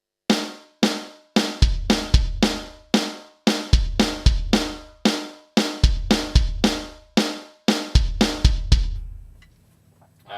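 A drum groove of punchy kick and snare hits in a steady, repeating pattern with no hi-hat, ending with a fading ring.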